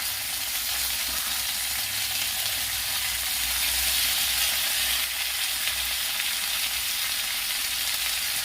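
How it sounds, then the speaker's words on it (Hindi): Roughly chopped tomatoes and a handful of cashews sizzle steadily in a hot pan while being stirred, a continuous close frying hiss with no voices. "इसमें मैं जो 2 टमाटर रफली चॉप की हूँ उसे मैं डाल दूंगी और ये 10-15 काजू है, इसे मैं चला दूंगी"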